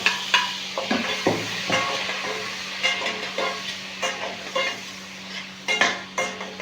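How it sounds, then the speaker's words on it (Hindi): Potatoes for aloo gobi fry in a pan with a constant sizzling hiss, punctuated by regular scraping and clinking strokes of a spoon stirring against the metal. "और इसे मैं 4 से 5 मिनट फ्राई करूँगा"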